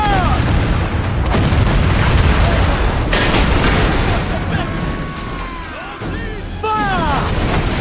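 Cannon broadsides boom repeatedly in the naval combat of Assassin's Creed Black Flag, loud continuous blasts over rumbling sea and ship noise, with voices shouting throughout.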